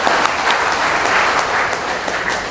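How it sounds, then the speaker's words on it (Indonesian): A crowd at a Bekasi labour union rally claps in dense, loud applause that holds steady for a few seconds. "Tepuk tangan dulu untuk kita semua."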